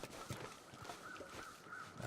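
Crows cawing in the snowy wilderness of The Long Dark, a few harsh calls spread across a steady windy background, moderately distant with soft crunching steps beneath.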